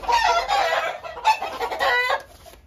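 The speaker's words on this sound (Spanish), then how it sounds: "esta es una gallina que tenemos aquí, de las reproductoras" A breeding hen clucks close by in a run of loud, choppy bursts broken by brief pauses, with a crowing-like rise near the end and no talk over it.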